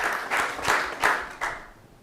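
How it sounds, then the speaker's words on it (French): An audience breaks into applause at a televised show, with short bursts of clapping that swell and fade in uneven waves and no talk. "On l'applaudit très très fort."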